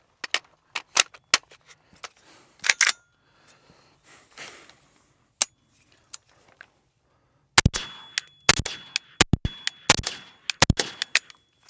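A Benelli M4-2000 semi-automatic shotgun fires rounds at a range. Loud sharp blasts come singly and then in a quick cluster, separated by quiet gaps with faint handling noises and breaths.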